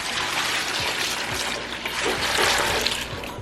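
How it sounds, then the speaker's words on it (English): Milk pours steadily into a bucket in a farm setting, a continuous close splashing flow that swells slightly midway, with no talking. "we have our milk, and then we're just gonna pour it in the bucket"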